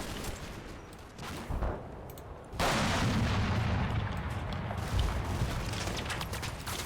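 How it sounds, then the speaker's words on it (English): Artillery shelling by tanks or a 6-pounder in the WWII game Combat Mission, with a sudden heavy blast followed by sustained rumbling bombardment and crackling fire, loud and dense throughout. "that's these guys getting shelled again, either by tanks across on this hillside here or by a 6-pounder"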